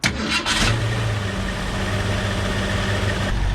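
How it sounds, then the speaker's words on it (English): An old car's engine cranks and catches, then settles into a steady close idle with a low, even rumble. "So while the car is running, you want to listen for any ticking, grinding, or anything like that."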